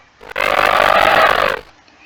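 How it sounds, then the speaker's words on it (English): A recorded elephant call plays from an animal sound app as a single loud, rough, roaring blast lasting just over a second, clear and alone with no voices. "it's the sound of the elephant only."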